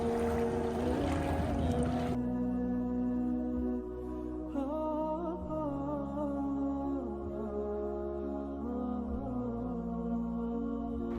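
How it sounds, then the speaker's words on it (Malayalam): Low, steady engine drone of a boat travelling between Lakshadweep islands from Kalpeni, moving over water, with a brief splashy rush at the start, continuous and fairly close. "ബോട്ട് വന്ന് തിരിച്ച് ദ്വീപിലേക്ക് തന്നെ മടങ്ങുകയാണ്"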